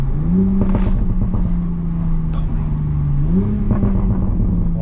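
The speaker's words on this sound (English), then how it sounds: "I hear the turbo spooling" Stock Toyota A90 Supra accelerating with its turbo spooling, a loud, steady engine drone that rises in pitch twice as revs climb, heard from inside the car.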